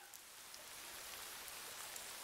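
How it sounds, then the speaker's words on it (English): Autumn rain falling on a village in the game Dawn of Man, a faint, even hiss of drops with a few soft patters, steady throughout. "It's a little bit rainy."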